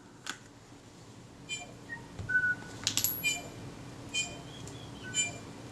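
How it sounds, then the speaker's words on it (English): A bellbird sings a scattered series of clear, ringing, bell-like notes, fairly faint and distant over a low background hum, with a few sharp clicks mixed in. "You bet you can hear that bellbird now."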